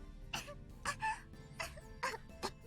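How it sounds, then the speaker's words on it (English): A girl character in a visual novel coughs after choking on a drink, four or five short, sharp voiced coughs spaced irregularly, close and fairly quiet. "She chokes on it for some reason, which sends her into a coughing fit."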